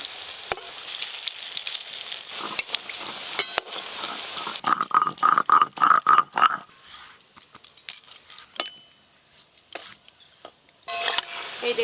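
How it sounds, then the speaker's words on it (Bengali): Bora fritters frying in hot oil: a steady bubbling sizzle, louder and busier in the middle with a run of sharp crackles and squeaks, then easing to quieter, scattered spitting. "ওই যে গুলগুল করে বড়া দিচ্ছি"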